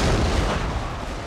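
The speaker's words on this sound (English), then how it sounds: "Please get killed by the artillery." Artillery from Total War: Fall of the Samurai rumbles in a single deep, loud boom that decays into a heavy low roar of battle.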